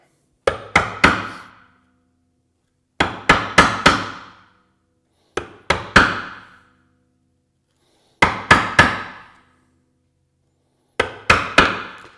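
A mallet strikes a chisel while chopping a shallow mortise in wood for a hand-built bookcase. The hits come in five loud, close bursts of three or four sharp blows each, with short silent gaps between the groups.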